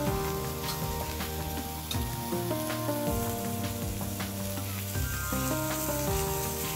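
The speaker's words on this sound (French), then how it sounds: "je vais mettre dans ma poêle directement comme ceci. Voilà, tout simplement. C'est quand même pas compliqué. Et là, ça va cuire en douceur devant vous." Beef araignée pieces cook gently in a hot frying pan, with a continuous crackling sizzle and stirring mixed with other tonal sounds throughout.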